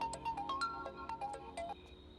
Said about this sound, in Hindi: वानी का फोन है।